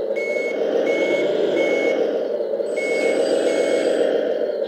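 RC hydraulic skip loader dumper at 1/14 scale driving backward, its reversing beeper pulsing steadily over a loud, constant motor whine, close by.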